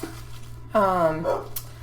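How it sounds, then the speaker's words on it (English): Dogs bark indoors, one or two clear, fairly close barks in a short burst with a faint yip just after. "my dogs are going bananas"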